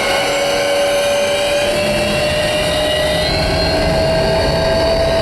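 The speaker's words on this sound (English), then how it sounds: "The dryer sounds like a airplane machine." A loud, steady mechanical roar with a constant whine, like a clothes dryer running hard, droning without pause.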